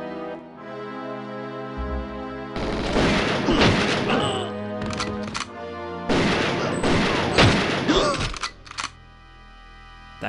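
A hand grenade explodes in the GoldenEye 007 video game, two loud booming blasts with crashing debris over a sustained musical game score, close and heavy, each dying away before quieter music resumes.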